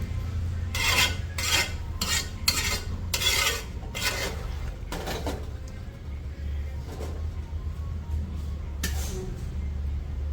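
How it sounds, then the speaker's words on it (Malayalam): A spoon scrapes and stirs a thin chicken parts curry simmering in an aluminium uruli pot, with several quick rasping strokes close up early on, a pause, then one more stir over a steady low kitchen hum. "അതുകൊണ്ടാണ് ഇടയ്ക്കിടയ്ക്കൊന്ന് ഇളക്കി കൊടുക്കുന്നത്."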